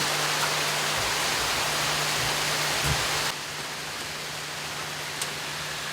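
Heavy rain during an outdoor recording, a steady loud hiss that fills the whole clip with a faint low hum underneath, dropping slightly in level partway through.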